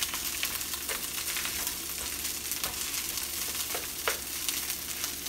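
Cold rice sizzling and frying in a pan, a steady close hiss with a few faint clicks and scrapes, continuous throughout with no talk.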